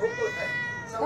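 A cat meows in a drawn-out, wavering call close by, with a second rising meow at the end and faint room noise underneath.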